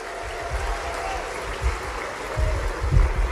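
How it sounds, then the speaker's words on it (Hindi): An outdoor political rally crowd in Madhya Pradesh claps as a continuous spread of applause, swelling louder toward the end, with low rumbling in the background. "ताली वाली बजा के बताओ"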